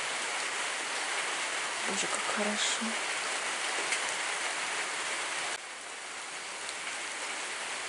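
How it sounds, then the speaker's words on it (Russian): Steady rain falls in an even, close hiss that continues throughout, while a voice speaks briefly and softly over it. "Ну, наконец-то дождик пошел."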